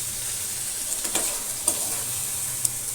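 Liver being kosha-style stir-fried in a pan gives a steady, soft sizzle, with a few faint scrapes of stirring and light clicks, heard close and alone.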